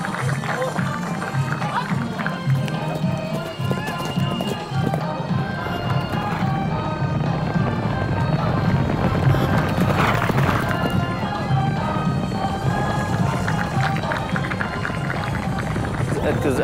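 Horses gallop at a riding event in Oman, their hoofbeats running steadily through a dense, continuous wash of crowd noise and background commotion.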